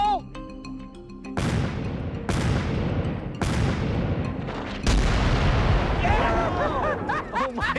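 An antique cannon fired by lanyard booms several times in succession, each loud blast followed by a decaying rumble, with excited shouting and cheering afterward.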